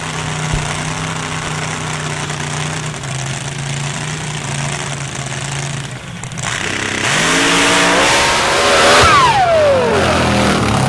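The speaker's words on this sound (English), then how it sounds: "Well, you hear the supercharger let go." A drag racing car at a championship finals meeting runs loud and steady, then its supercharger lets go and the engine note breaks into a rising, rough, sweeping howl that stays close and dominant.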